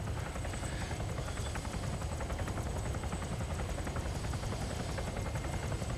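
Helicopter flying in the video game Arma 3 Altis Life, a loud, steady rotor drone with rapid chopping thumps and broad engine noise, continuous and close.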